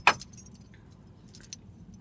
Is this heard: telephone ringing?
no